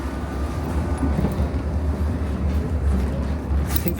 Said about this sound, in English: This train is now approaching Vauxhall